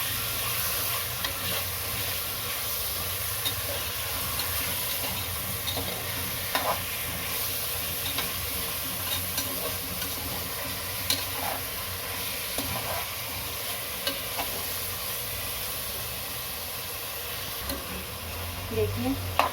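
Chicken frying in a pan for a chicken and hyacinth bean gravy, a steady loud sizzle under repeated utensil scrapes and stirs, close up and continuous throughout.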